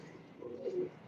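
A pigeon gives a single soft, low coo that swells and fades within a second, close but quiet.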